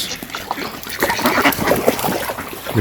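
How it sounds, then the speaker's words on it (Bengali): Ducks quacking in a Bangladeshi village, a busy cluster of nasal calls close by with a rougher call at the end, over a steady outdoor background. "আরে দেখে গেল হাঁস আর হাঁস"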